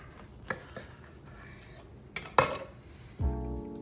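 A knife slices through food in a few separate cuts, heard as faint scrapes and sharp clicks against a board at uneven intervals, closing with a short tonal sound.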